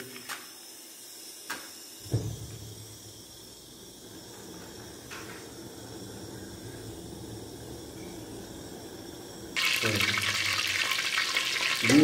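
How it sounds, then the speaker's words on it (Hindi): Ghee heats in a kadhai over a village wood fire, giving a soft, steady low sizzle after a few knocks. Near the end a much louder burst of frying hiss rises. "घी हमारा गर्म हो चुका है"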